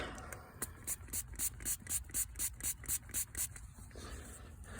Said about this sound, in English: Spray it with some peroxide.